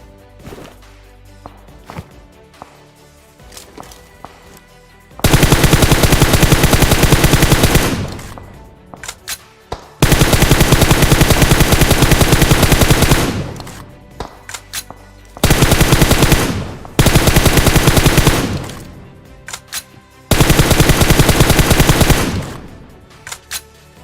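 Automatic gunfire in a shooting video game, a team firing into the air: four long, loud sustained bursts of rapid shots separated by short pauses, with quieter game ambience between them.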